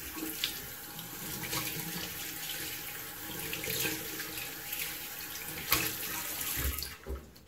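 A tap runs close by in a steady gushing stream as a shaving brush is wetted under it, with the flow briefly shifting near the end.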